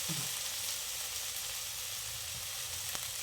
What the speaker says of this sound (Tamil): உப்பு சேர்த்து கொஞ்சம் நல்லா ஃப்ரை பண்ணிக்கோங்க.